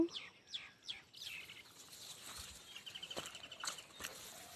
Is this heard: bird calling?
yes